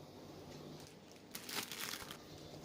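A plastic bag holding flour, starch and spices for broasted chicken is handled, giving a soft, continuous crinkling that swells into a louder rustle partway through.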